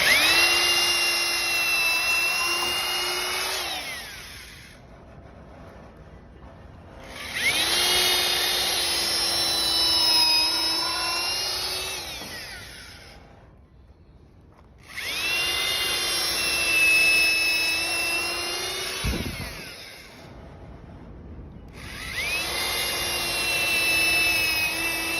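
A power drill pre-drilling lumber for a bench swing arbor whines in four long bursts of several seconds each, separated by short quiet pauses, loud and close with no talking.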